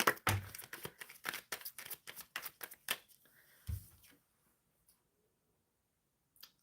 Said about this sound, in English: Shuffling for Rezia.